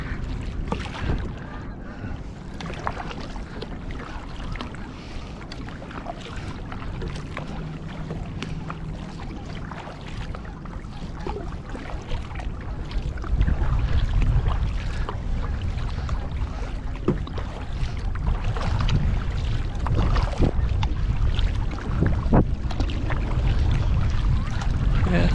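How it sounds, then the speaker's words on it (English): A kayak moves on the Missouri River in the evening through wind-driven chop, with steady wind buffeting the microphone, water slapping and splashing near the hull, and gusts growing louder partway through. "getting into a little bit of chop from the wind"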